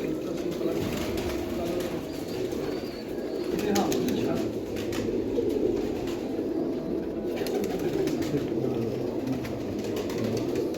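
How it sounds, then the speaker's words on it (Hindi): A flock of pigeons coos steadily, with soft wing flutters and a low background murmur throughout. "ये देखें सारे कबूतर हैं"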